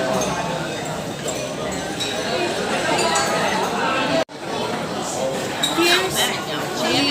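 Glasses clinking in a birthday toast, bright chinks and clinks scattered among lively overlapping chatter of a group of people close by, with cheerful voices throughout.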